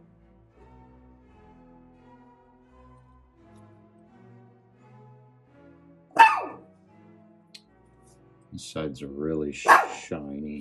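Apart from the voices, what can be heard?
dog barking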